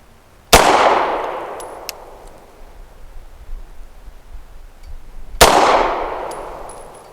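Two loud, sharp gunshots from a Tisas B9R 1911 pistol firing Federal 138 grain Syntec Defense ammunition, about five seconds apart, each ringing out with a long decaying outdoor echo and no talking.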